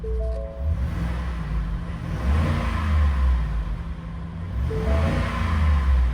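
A 5-liter V8 in a 2018 Ford F-150 XL Supercab revs with a steady low rumble that swells, eases and climbs again over about six seconds, close and loud. No voices.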